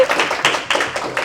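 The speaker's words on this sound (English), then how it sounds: "If we could give a round of applause to Sara." Applause for a guest speaker at a live entrepreneurship session, several bursts of hand clapping close by over a little over a second, with faint voices mixed in.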